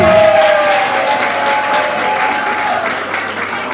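A large crowd at a gathering addressed by Burkina Faso's leader claps and applauds continuously, a dense wash of hand claps with faint cheering and crowd noise.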